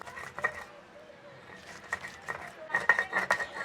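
Fresh ginger and garlic are ground into paste on a stone slab with a grinding stone, producing soft scraping, rubbing and tapping strokes in uneven bursts, close by and moderately quiet.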